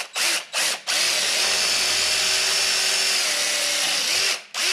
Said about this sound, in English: I'm pre-drilling these before I screw it to the wall